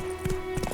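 Horse hooves in the video game Witcher 3 give a brief run of rhythmic, loud clip-clop beats over a steady game background hum.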